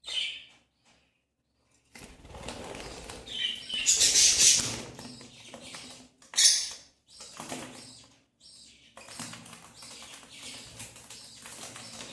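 Caged birds nearby flutter and flap their wings in quick bursts, with high chirps and tweets scattered among the rustling, loud in spots and quieter between.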